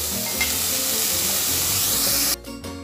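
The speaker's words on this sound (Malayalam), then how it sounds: "അതുകൊണ്ട് രണ്ടും വറുത്ത് കോരുകയുണ്ട്, വറുത്ത് കോരി വെച്ചു" Sliced bitter gourd frying in hot oil in a pan, a continuous sizzle with light stirring, steady and close, ending abruptly in a brief quieter stretch.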